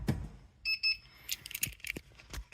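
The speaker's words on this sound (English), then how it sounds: "So let's go ahead and activate the ignition." A key is turned in the ignition of a 2003-07 Honda Accord: keys jangle and click, a short electronic chime tone sounds twice, and then more faint clicks and rattles follow nearby.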